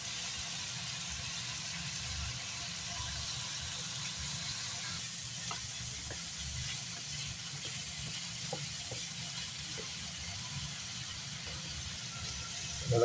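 Vegetables for beef salpicao sizzle as they sauté in margarine in a pan, a steady broadband frying hiss with faint stirring clicks, close and continuous throughout.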